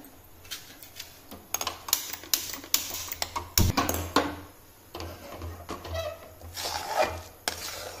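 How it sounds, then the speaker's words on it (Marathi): A coconut and sugar wadi mixture is stirred in a pan with a utensil, giving repeated scraping and tapping strokes in an irregular rhythm, close up and moderately loud, with no talking. "याला सारखं असं परतत राहायचं आहे।"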